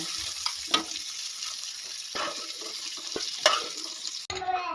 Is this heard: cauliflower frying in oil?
yes